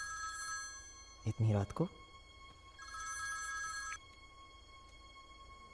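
A telephone rings in a dramatic Hindi action film scene: a short burst of ringing, then a second longer ring a moment later, with a voice speaking between the rings.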